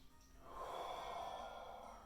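A single slow, deep inhalation through the nose during a yoga hip flow, a soft airy rush that swells after a brief pause and then holds steady, close and fairly quiet.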